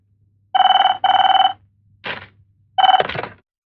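A telephone rings for an incoming call in a Hindi-dubbed crime movie: two bright electronic ring bursts, a short scraping sound, then a third ring that is cut off, close and clear.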